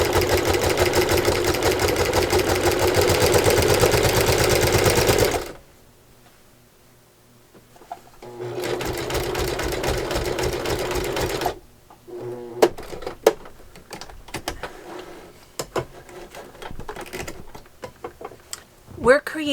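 A sewing machine stitches binding onto a baby quilt in two steady runs of close, buzzing motor and needle hum, parted by a pause, then gives way to scattered handling clicks and taps.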